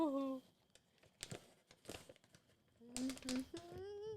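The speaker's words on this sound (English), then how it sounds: "This one might be a little difficult to open gingerly because it is nice and taped up" A taped-up mail package is torn and crinkled open in short, bursty rips and rustles, near and fairly quiet, with chirping bird calls and a brief voice around them.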